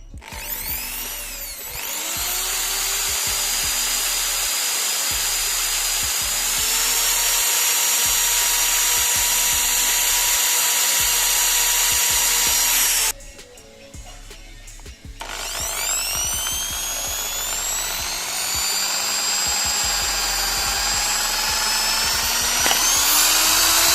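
A power drill bores a hole through 2-inch PVC pipe, running as a loud, steady whine with rising and falling pitch across the clip and one short pause.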